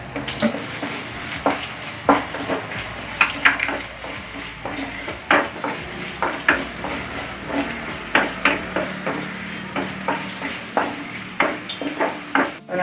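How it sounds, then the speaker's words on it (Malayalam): Grated coconut fries in coconut oil in a hot pan, a steady sizzle broken by frequent scraping and stirring clinks of a spoon against the pan, close and continuous with no talk. "അതിലേക്ക് നമുക്ക് നാളികേരം കൊടുത്ത് കുറച്ച് വെളിച്ചെണ്ണ ഒഴിച്ച് വറുക്കാം"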